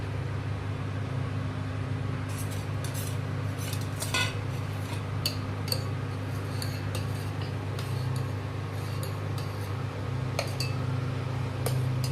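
A spoon stirs ragi porridge in a pot on the stove, making scattered light scraping clinks against the pot over a steady low hum of the flame or kitchen background.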